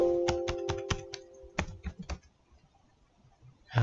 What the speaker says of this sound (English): I'm typing tab to see if I can complete one of these words